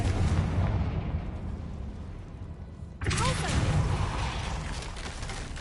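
A Confringo spell goes off in Hogwarts Legacy on PS5, a sudden broadband blast at mid-clip that cuts through a steady rumbling game soundscape and leaves a brighter, crackling wash afterward.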